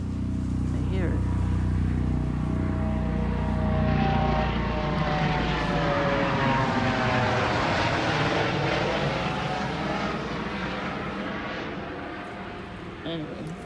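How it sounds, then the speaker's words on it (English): A low-flying aircraft drones steadily overhead for the whole stretch, a loud, broad rumble with a slowly shifting pitch as it passes, gradually easing off toward the end; a voice is briefly heard alongside. "Where is the helicopter?"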